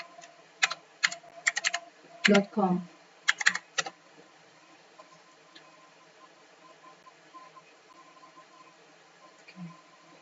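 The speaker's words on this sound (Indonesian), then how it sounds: "Yang pertama itu kita ketik kaggle.com." Someone typing a web address on a computer keyboard: quick bursts of crisp key clicks through the first few seconds, then near silence with faint room noise and one soft tap near the end.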